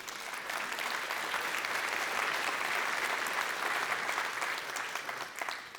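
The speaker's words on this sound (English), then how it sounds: "So can we get a round of applause for our sponsors," Conference audience applauding sponsors at an opening session in Berlin, a sustained, even wash of clapping from a large crowd that holds steady for several seconds before tapering slightly.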